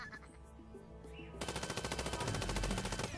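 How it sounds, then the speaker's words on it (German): A sentry gun turret in the artillery strategy game Worms Revolution opens fire partway through, with a rapid, loud, evenly spaced stream of shots after a quieter stretch of game sounds. "Ach, ist doch ein Geschütz."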